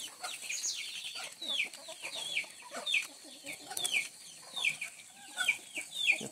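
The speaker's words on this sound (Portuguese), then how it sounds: "E as galinhas estão fazendo a festa." Clucking hens fill an organic vegetable garden with tomatoes and chicory, repeated bright calls and squawks rising and falling in bursts at close range, with no voices.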